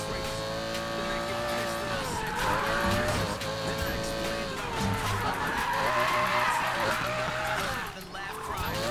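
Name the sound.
car racing in Need for Speed Payback video game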